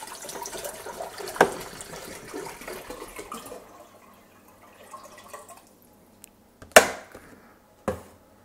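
Water is poured into a pot to bring it to a boil for lemon kvass, a soft, fairly faint splashing stream for about three seconds, followed by quiet and a couple of sharp kitchen clanks.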